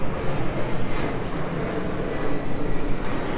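An airplane flies over a river near a boatyard in Miami, Florida, a loud, steady broadband roar that fills the whole stretch with no break and no voices on top.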